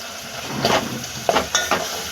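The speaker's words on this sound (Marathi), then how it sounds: "आता आपण हे 2 मिनटं व्यवस्थित परतून घेऊया." Masala sizzling in hot oil in a pan for masoor dal khichdi, with a steady frying hiss broken by a few soft stirring scrapes, close and moderately loud with no talking.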